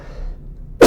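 A single sharp cough bursts out at the very end after a near-silent lull, close and loud.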